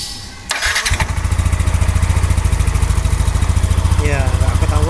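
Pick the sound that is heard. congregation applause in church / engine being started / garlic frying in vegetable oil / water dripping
engine being started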